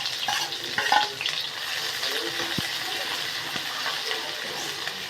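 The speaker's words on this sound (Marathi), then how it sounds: "एक कांदा बारीक कापून घेतला परतून घ्यायचा आहे कांदा" Finely chopped onion fries in hot oil for a spicy rassa curry with a steady sizzle, while occasional scrapes and clinks of stirring sound up close.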